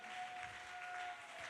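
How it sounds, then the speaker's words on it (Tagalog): A church congregation claps, the applause faint and distant, forming a soft even patter for a moment, with a steady electronic hum beneath it. "Pumalakpak muna tayo sa mahal na Panginoon."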